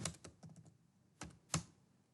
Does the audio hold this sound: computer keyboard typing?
yes